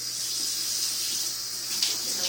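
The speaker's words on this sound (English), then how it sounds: "in the water and give it a good wash" A reusable sandwich wrap is washed under running water from a tap, giving a steady, close hiss of flowing water for a couple of seconds, with no voices.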